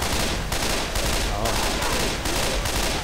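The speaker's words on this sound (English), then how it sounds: "it's because he's using the grenade launcher" A grenade launcher fires in Left 4 Dead 2 over a dense, continuous wash of loud gunfire, with sharp blasts landing roughly every second at close range and no voices.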